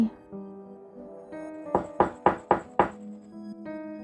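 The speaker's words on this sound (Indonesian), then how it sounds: "Suara ketukan pintu mengagetkanku." Five sharp knocks on a door at three in the middle of the night, evenly spaced and fairly close, set over a soft sustained musical backdrop.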